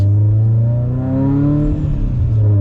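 A 760whp Subaru STI on a cold road pulls hard in gear, its deep engine note heard close and loud, rising steadily in pitch with a faint whir over it.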